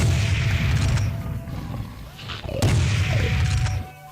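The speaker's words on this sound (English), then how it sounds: "I'm going to switch over to my sniper gun and miss" A sniper rifle fires in Serious Sam HD, a single sharp crack cutting through a loud, rumbling ambient drone, with roaring creature noise around it.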